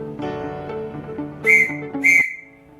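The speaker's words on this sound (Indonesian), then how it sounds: "Kemudian bunyi dari huruf I." Two short whistled dots spell the Morse letter I, clear and close, standing out over quiet background music.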